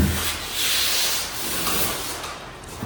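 A brush rubs and smooths grasscloth wallpaper into a room corner, giving a soft, continuous close-up brushing hiss with gentle swells and no talk.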